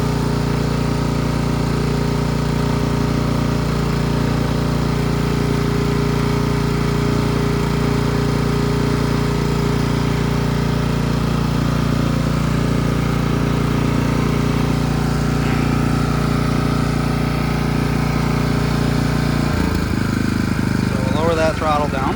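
Honda HSS928A snowblower engine idling steadily and loudly up close, a constant low drone throughout that shifts and drops near the end as it throttles down, with a voice talking over it.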